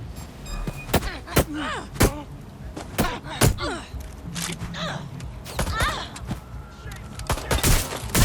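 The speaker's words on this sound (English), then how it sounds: "Getting shot out here!" Gunfire in the video game Watch Dogs: Legion: sharp, loud shots and bursts in an irregular barrage, close and punchy, with a voice speaking between them.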